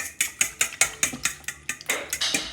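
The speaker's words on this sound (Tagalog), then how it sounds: "Then, syempre, haluin natin to." A spoon stirs a seasoning mix of salt and syrup in a bowl, making a steady run of about a dozen close, bright clinks and scrapes in an even rhythm, with no talking.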